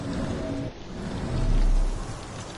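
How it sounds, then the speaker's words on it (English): Steady rain falls in a Sherlock Holmes The Awakened video game scene, a dense loud hiss on surfaces with a low rumbling swell near the end, and no voices. "This dreary rain is making a miserable day even worse."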